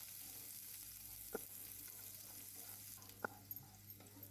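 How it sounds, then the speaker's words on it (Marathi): Chopped onion sautéing in a pan after cumin and mustard seeds have crackled, a steady soft sizzle with a couple of brief clinks of stirring, faint and close, with no talk. "त्या कांद्याला छान असा ब्राऊन कलर येईपर्यंत परतून घेऊया."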